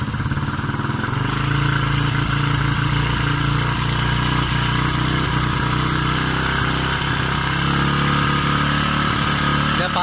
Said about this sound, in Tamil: பிறகு பைக்கை ஸ்டார்ட் பண்ணி இந்த ஸ்க்ரூவை திருப்ப திருப்ப பாத்தீங்கன்னா ஐடில் அப்பாறது உங்களால் அவதானிக்க முடியும்